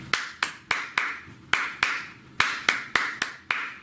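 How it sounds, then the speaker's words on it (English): Hand clapping of a practice rhythm for a flute and oboe holiday arrangement, around thirteen crisp, close claps in an uneven pattern with short gaps and pauses, no talking over them. "I'm going to start out by clapping this rhythm."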